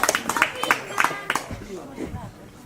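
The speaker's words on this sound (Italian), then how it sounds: "Un applauso al chitarrista" A crowd claps for a guitarist at a village performance in Narcao, Sardinia, with sharp bursts of clapping in the first half under a voice, then fading to scattered sound and talk.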